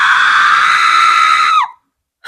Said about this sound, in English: Horror scream.